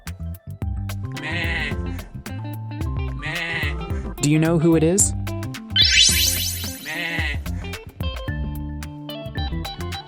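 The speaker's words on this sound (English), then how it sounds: "it's a little goat" A goat's bleat rises loud in the middle of a children's animal-sound lesson, a wavering cry heard once between stretches of cheerful background music and a narrator's speech.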